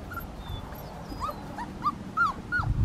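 Black tri-colour female Australian Shepherd whimpering on a farm, a series of short high-pitched whines and yips repeating close by with faint background rustle.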